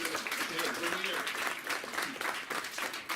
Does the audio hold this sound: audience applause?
yes